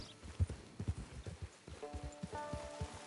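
Horse hooves clip-clopping in the video game Red Dead Redemption Online, a steady trotting rhythm of soft thuds heard at a faint, quiet level, with a faint tonal hum entering partway through.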